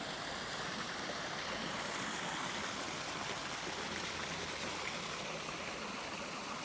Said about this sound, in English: Here we have a beautiful, nice water feature here.